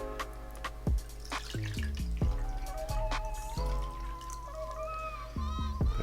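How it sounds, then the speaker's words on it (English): Water is poured back into an ultrasonic cleaner tank used for vape tanks and drippers, with a series of close, distinct splashing drops and a rising trickling tone as the tank fills, with no talk. "I'm just gonna put the water back into it again"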